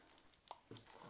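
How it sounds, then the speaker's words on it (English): Thin plastic shrink-wrap is peeled and torn off a brand-new tarot card deck, giving a few faint, quick crinkles and rips close by in a quiet room. "We're just let's take the plastic off."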